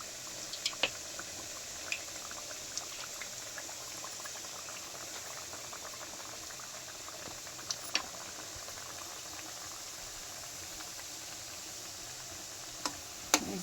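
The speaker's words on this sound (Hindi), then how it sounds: "हमारा रिफाइंड गर्म भी हो गया है, तो हम इसमें गुजिया डालते हैं" Gujiya frying in hot refined oil in a kadhai, a steady dense sizzle and crackle with occasional sharp pops, close and continuous throughout with no voices.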